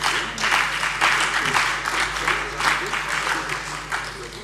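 A parliament chamber fills with sustained applause at a plenary session of the Hessian state parliament, a dense continuous clapping that swells and ebbs slightly across a few seconds, with no voice over it.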